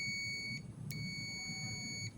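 A digital multimeter in buzzer continuity mode, tested while checking a two-door refrigerator's bimetal part, gives a steady high electronic beep that cuts off briefly twice, over a low background hum.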